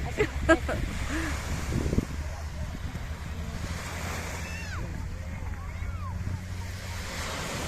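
Sea waves roll onto a beach with a steady wash of surf and wind buffeting the microphone, and a voice is heard briefly near the start.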